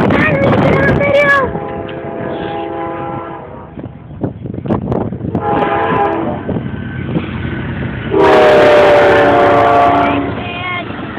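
An Amtrak train horn blows in long and short chords close by, loud and blaring, with excited voices talking between the blasts and a final strong horn burst near the end.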